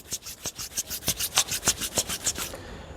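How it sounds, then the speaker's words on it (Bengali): Both palms rub briskly together in a quick, even rhythm of about a dozen dry, rasping strokes over three seconds, close and alone, then stop. "হাত দুটোকে ভালোভাবে ঘষে হাতের তালুগুলোকে গরম করুন"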